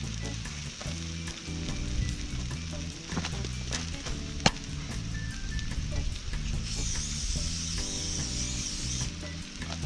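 Sausages fry in oil at a riverside campground, giving a steady sizzle and crackle over a low background, with music playing throughout and a single sharp clink partway through.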